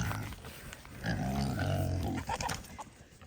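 A pig grunts and snorts in a low, rough series close by, with some outdoor background noise.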